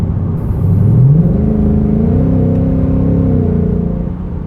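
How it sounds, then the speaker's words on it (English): A deep, rumbling Ford Coyote V8 in a Mustang Mach 1, with an H-pipe exhaust, idles and revs briefly, a throaty burbling note settling to a steady low rumble nearby. "the Coyote engines just sound fire"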